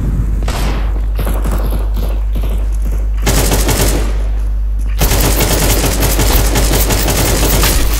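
AK-47 gunfire in Counter-Strike 2 on the Anubis map, loud rapid automatic bursts in three sustained stretches separated by brief breaks, with booming impacts underneath.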